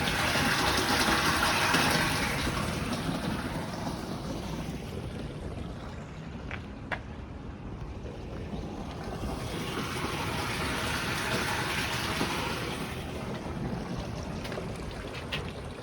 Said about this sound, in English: gravity does its job, pushes it through the hose